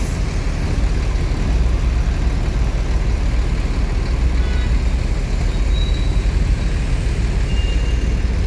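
Convoy of three Jetbus 3 coaches on the move, a loud continuous low engine drone and road rumble held steady throughout, close and unbroken, with no talk.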